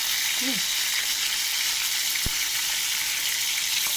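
Fish frying in hot oil in a pan, a loud, continuous sizzle with crackling spatter throughout, one sharp knock partway through, and no talking.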